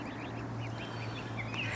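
Geese calling on the Itchen Navigation in Winchester, a series of short honking calls over steady outdoor background hum, moderately near and without speech.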